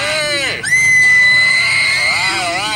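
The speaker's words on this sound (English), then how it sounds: "I want you to shout and scream as loud as possible." An esports crowd at a live match between EVOS Singapore and RRQ shouts and screams together on cue, a loud sustained roar of high voices that swells and holds for a few seconds.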